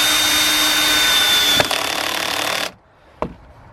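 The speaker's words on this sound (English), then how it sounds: "Try not to make your drill spin too fast or else it will jump out of the screw, out of the screw head." Cordless drill driving a screw into a wooden garden crop frame, a steady loud whine for about two and a half seconds that stops abruptly, then a brief knock.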